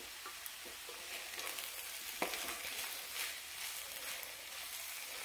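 Fenugreek leaves and boiled potatoes cook in a pan on low heat, giving a steady, soft sizzle and crackle with a few light stirring scrapes, close and even throughout.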